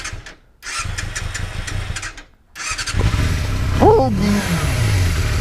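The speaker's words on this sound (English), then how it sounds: "look, it sounds like a real bike." A Yamaha mini bike engine starts up close by and revs, its buzzy note climbing and dropping, while a person talks over it.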